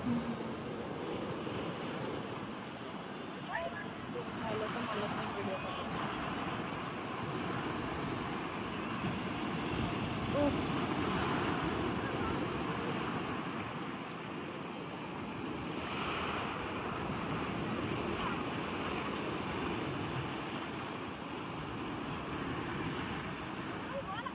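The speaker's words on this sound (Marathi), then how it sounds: "काय मस्त आवाज येतो ना पाण्याचा." Ocean waves at Danapani beach at sunset surge continuously, with swelling and easing washes of surf and a low wind rumble for the whole stretch.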